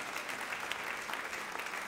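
A church congregation applauds loudly, a dense, steady wash of clapping filling the room throughout.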